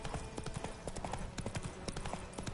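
Horse hooves clip-clop steadily on the road in The Witcher 3, a quick rhythmic gallop of many closely spaced thuds running throughout at a moderate, close level with a constant game ambience beneath.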